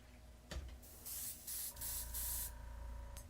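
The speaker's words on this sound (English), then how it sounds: "I need to make sure this is actually going to spray out before we get started." An airbrush test-sprays before priming model kit parts, giving several short close hissing bursts of air separated by brief pauses, with a faint motor hum underneath and no talk.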